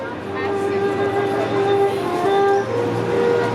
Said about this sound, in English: Here's a Up Express train, Union Pearson Express.